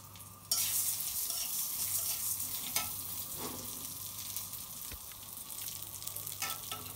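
Cumin seeds and a small handful of mung dal fry in hot oil in a pan, giving a steady close sizzle with occasional scrapes of stirring and no voices.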